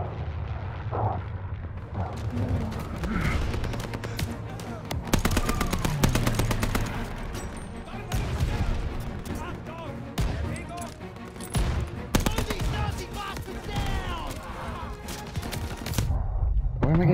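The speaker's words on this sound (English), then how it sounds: "Where am I getting shot at?" Rapid rifle and machine-gun fire rattles through a Call of Duty battle at El Alamein in the desert, loud bursts and single cracks repeating densely across the whole stretch with distant booms.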